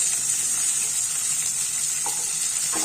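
Small shallots and garlic cloves fry in a pan for a thuvaiyal, giving a steady bright sizzle with occasional faint stirring scrapes, close and continuous.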